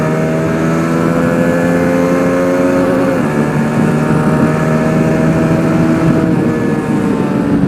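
A 2021 Honda CBR150R K45R motorcycle engine screams at high rpm near its 11,000 rpm rev limiter, a loud continuous buzzing drone that briefly dips and recovers while the revs are held.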